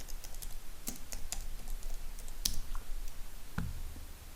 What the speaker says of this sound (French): dans ma barre de recherche, je tape Lorem Ipsum